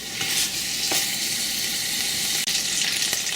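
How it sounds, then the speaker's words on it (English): Pork sizzles and fries steadily in a pan for a green sauce dish, a dense, continuous crackle close up with a few soft stirring clicks and no talking. "We're going to cook this for just another minute or two like this, kind of fry everything a little bit."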